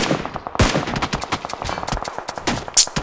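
A gun sprays in BGMI: rapid, loud, close automatic fire in quick irregular bursts, with dense shots overlapping throughout and a few heavier cracks standing out.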